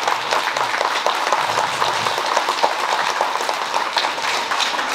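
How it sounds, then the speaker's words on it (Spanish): A crowd at a 69th anniversary ceremony in La Concha, El Naranjo, San Luis Potosí breaks into steady, dense applause that holds evenly loud throughout without pause. "Dándonos un fuerte aplauso."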